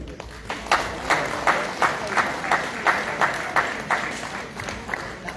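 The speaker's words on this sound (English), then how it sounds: "Please give her a hand of applause." An audience applauds as a university staff member is called forward at a football championship meet-and-greet, the clapping steady and reverberant in a large room, with rhythmic claps and some voices underneath.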